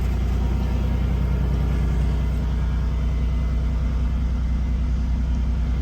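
A car engine idles steadily after a cold start, a loud, close, even low rumble with a constant droning hum and no revving, nothing else heard.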